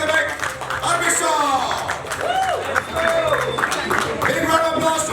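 An audience at a fight-night press conference breaks into applause, a dense clapping crowd heard under a voice talking over it, with cheers and murmurs mixed in throughout.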